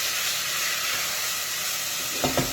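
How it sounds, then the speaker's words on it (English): Garlic and ginger paste frying in a hot pan, a steady broadband sizzle, continuous and close, with a couple of faint clinks near the end. "I'm just frying in that garlic and ginger paste"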